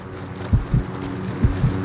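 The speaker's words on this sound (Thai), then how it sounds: "เสียงหัวใจเต้นนะ เต้นอย่างดังตื่นเต้นนะ" Heartbeat effect from the video game Call of Duty Modern Warfare 2019, two deep thumping double beats spaced evenly over a low droning background, close and muffled, with no talking.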